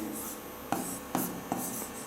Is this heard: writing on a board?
yes